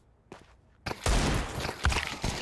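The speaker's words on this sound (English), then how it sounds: "rocking those pistols, looking for the deagle shots" Pistol shots in a competitive Counter-Strike match, including Desert Eagle fire, sound as a few sharp cracks after a quiet start, followed by dense, loud bursts of gunfire and game noise.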